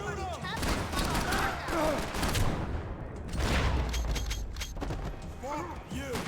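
Gunfire in the video game Max Payne 3 crackles in repeated bursts under loud, continuous shouting voices, with dense noisy shots spread across the whole stretch.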